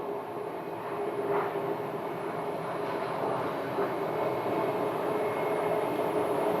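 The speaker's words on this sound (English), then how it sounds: "Phenom 300 is landing" An Embraer Phenom 300 business jet lands at Sky Harbor airport, heard as a steady, moderately distant engine roar with a whine on top, holding even throughout with no voices.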